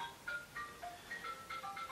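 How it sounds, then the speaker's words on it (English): A mobile phone rings with a short melodic ringtone, a quick run of bright tones repeating across the moment, faint and somewhat distant in a quiet room. "excuse my phone, it's going off as it normally does"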